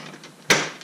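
A plastic interior trim piece is pulled by hand off its retaining clips in an R50 Mini Cooper, giving one sharp snap-like crack after a quiet moment.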